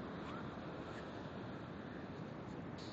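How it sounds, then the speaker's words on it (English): Ocean surf at Pacific City Beach rolls in as a constant broad roar with some wind buffeting the microphone, with no speech over it. "Never turn your back on the ocean. It's coming to get you."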